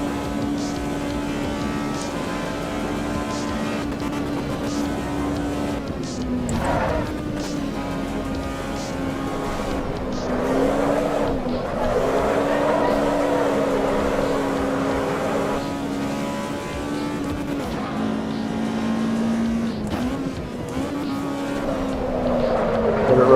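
Race car engine in the racing game Assetto Corsa EVO holds a steady high-pitched whine, dipping briefly at gear changes and climbing again as the revs rise, loud and continuous.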